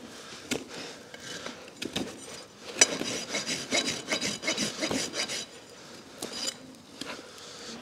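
A rasp files a Shetland pony's hoof in steady, close rasping strokes, each rough scrape repeating at an uneven working rhythm with short pauses between passes.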